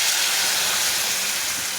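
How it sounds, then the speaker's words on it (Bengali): Water poured into a hot pan of frying foli fish curry with drumstick, bitter gourd and tomato gives a loud, steady hiss of steam that holds without pause throughout. "এখন আমি জল দিয়ে দেবো।"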